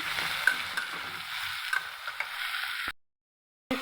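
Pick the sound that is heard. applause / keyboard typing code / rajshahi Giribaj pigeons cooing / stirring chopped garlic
stirring chopped garlic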